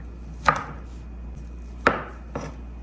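A knife cuts through leftover berries on a board in three sharp, separate chops spaced about a second apart, close and fairly quiet against a low steady hum, with no talking.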